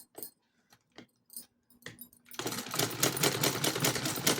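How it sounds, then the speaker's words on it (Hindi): A sewing machine stitching along a blouse corner with cord tucked inside: scattered clicks and handling taps at first, then the motor kicks in with a steady rapid whirring rattle, close and fairly loud. "इसे एक पैर की सिलाई लगानी है डोरी को अंदर करते हुए"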